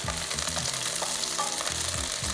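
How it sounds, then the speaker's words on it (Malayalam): Green chillies fry in hot sesame oil, giving a constant loud sizzle and crackle with occasional stirring sounds, close by and with no talking. "ഈ മുളകിനെ നന്നായിട്ട് വറുത്തെടുക്കണം കേട്ടോ"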